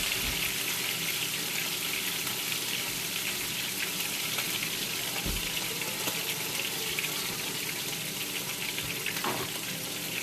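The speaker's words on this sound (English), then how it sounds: "Now wash your hands always." Tap water runs steadily and loudly into a sink as hands are washed, a continuous broadband rush with a few faint knocks, no voices.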